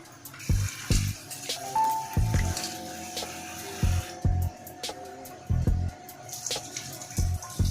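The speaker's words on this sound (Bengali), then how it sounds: "আবারও একবার আমি ধুয়ে নিব।" Cut vegetables are rinsed in water for a fish-roe and chicken-egg vegetable dish, with repeated short splashing bursts and sloshing at an uneven rhythm, close and fairly loud.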